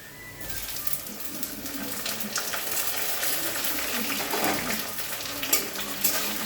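Steady sizzling and crackling from a hot pan of frying onions and tomatoes, with occasional scraping and stirring sounds, continuous throughout with no talking.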